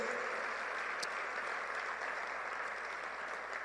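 A crowd applauds steadily, a dense wash of clapping that continues throughout without pause.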